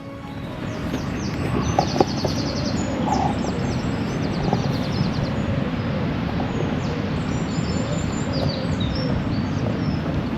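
Birds chirp and call intermittently over a constant outdoor hiss, with a few sharper calls standing out now and then.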